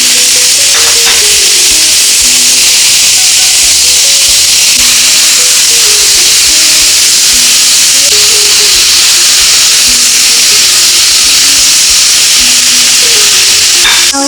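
Loud, steady sizzle and hiss of chili frying in a hot pan as tomato goes in for an eggplant sambal balado, continuous and close, with faint stirring and no talking.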